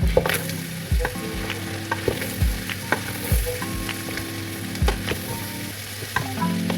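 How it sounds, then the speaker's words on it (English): Carrots and bell pepper frying in a pan, a steady sizzle with repeated scraping and stirring strokes, close and fairly loud, no talking. "So I'm adding everything inside: carrots and bell pepper. So I'm frying everything together."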